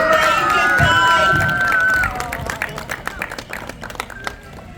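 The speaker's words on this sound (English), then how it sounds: "So can we give them all one big round of applause and a big wave goodbye." An audience at the Blackpool Zoo sea lion show claps and cheers after the training demonstration. Lively clapping mixes with crowd chatter, children's voices and a few whistle tones, thinning into scattered claps by the end.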